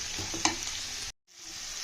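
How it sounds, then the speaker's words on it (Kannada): Tomato and onion fry in a pan with a steady close sizzle, one brief stir clink near the start, then a short cut to silence before the sizzling resumes. "ಸೊ ಟೊಮೆಟೊನು ಫ್ರೈ ಆಗೋದಕ್ಕೆ ಬಿಡೋಣ."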